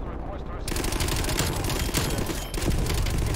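Heavy, continuous automatic gunfire in a video game, loud rapid bursts with occasional booms filling the whole stretch, with a voice talking under the shooting.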